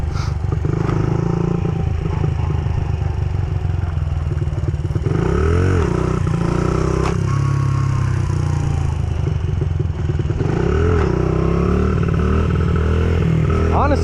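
A small 50cc stunt motorcycle drones loudly and close by, its engine pitch rising and falling repeatedly with throttle changes over a continuous rattling hum.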